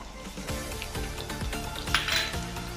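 Sattu spooned into chicken chaap gravy in a pan, with repeated metallic clinks of a spoon against the pan in a steady rhythm under a low, continuous kitchen hum.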